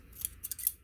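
Scissors snip through fabric while a bow is made with heat-and-bond material, three or four quick crisp close cuts within a second.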